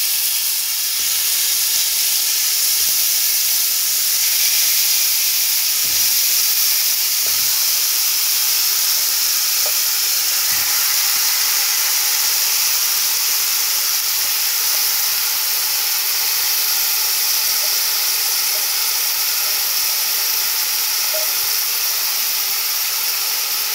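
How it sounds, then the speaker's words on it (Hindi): Chicken dropped into a pot of fried garlic for chicken dum biryani sizzles with a steady, loud hiss that carries on with no break, marked by a few faint pops. "अभी मैं इसमें चिकन जो है वो ऐड कर दूंगा"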